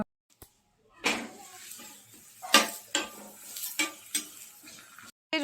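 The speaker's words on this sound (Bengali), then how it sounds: "এখন এই যে আমাদেরটা ভেজে নিচ্ছি আজকে একটু তেল দিয়ে বানাচ্ছি দুটো" Rotis frying in a pan with a little oil, heard as intermittent soft scraping and stirring clatter with faint sizzle, bursts spaced irregularly and fairly quiet, no voices.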